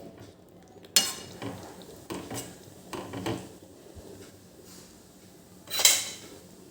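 A spoon stirs chola bean gravy curry in a cooking pot, giving a few sharp metallic clinks and scrapes against the pot with quieter shuffling between them, close and alone.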